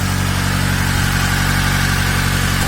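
A Honda Del Sol with a D16Z6 engine, running on fuel about a year and a half old, idles steadily and close by, a smooth continuous hum with no voices over it.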